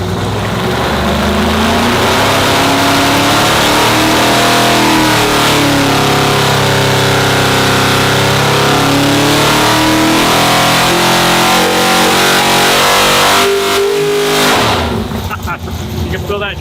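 A 1,000 horsepower 632 cubic inch big block engine roars at close range, holding a loud, deep sustained rev that rises and falls, with voices talking over the engine noise throughout.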